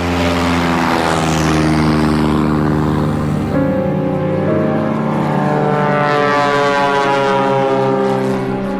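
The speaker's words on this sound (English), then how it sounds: "Kramer bought his first airplane, a stylish and swift Piper Cherokee" A Piper Cherokee light propeller airplane drones steadily and loudly throughout, its engine tone rising in pitch at first and then holding a continuous harmonic hum, with no talking.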